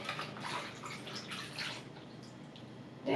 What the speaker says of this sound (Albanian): do shplajmë edhe gotën që kishim salcën. Edhe tasin që bërëm për zirje